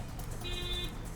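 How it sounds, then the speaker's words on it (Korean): A car horn sounds from behind at a city intersection, a steady tonal honk held for about half a second over low traffic rumble, moderately loud. "뒤에서 경적이 울립니다."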